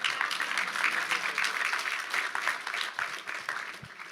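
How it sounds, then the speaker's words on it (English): A crowd at a Turning Point USA community event claps in a dense, steady patter that gradually thins toward the end, with no talking over it. "go ahead, you can clap"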